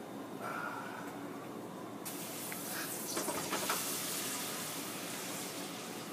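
Sweet plantains dropped into hot oil, a quiet broadband hiss that swells into a steady sizzle partway through, faint and close, with no voices.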